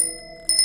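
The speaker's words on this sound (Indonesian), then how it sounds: "Iya, suara kring sepeda." A bicycle bell rings once, a bright metallic ding that sustains briefly with a second faint strike near the end, clear and close.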